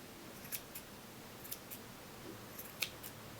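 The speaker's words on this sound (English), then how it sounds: "I could just keep trimming here until there's nothing left." Scissors snip at a yarn pom-pom in a handful of quick, faint cuts, spaced irregularly across a quiet room with no talking.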